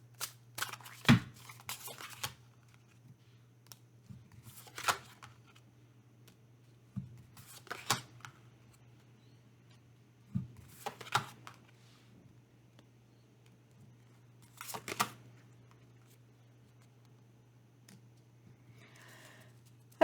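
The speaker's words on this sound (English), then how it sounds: "even as I was shuffling these first cards" Tarot cards being shuffled by hand in short riffling bursts, repeated five or six times with quiet pauses between, over a steady low hum.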